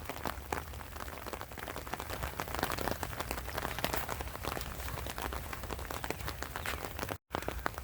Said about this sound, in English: It never did quit raining, so never did get out of it